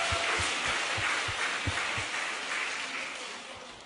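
Church audience applauding at a Korean harvest thanksgiving praise service, a dense steady wash of clapping that fades slightly toward the end, with a low thumping beat underneath.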